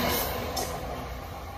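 A SEPTA commuter train approaching and stopping at Wynnewood station gives a steady rumble with a hissing, rolling wash that fades slightly over a short stretch.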